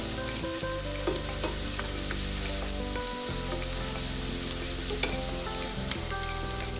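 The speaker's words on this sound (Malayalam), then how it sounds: "നന്നായി ഫ്രൈ ആയിട്ടുണ്ട് ഫ്രഞ്ച് ഫ്രൈസ്" French fries frying in hot oil give a steady, loud crackling sizzle throughout, with occasional stirring clinks and no talking.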